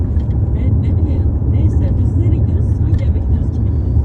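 A car's steady low road and engine rumble fills the whole stretch, loud and continuous without break.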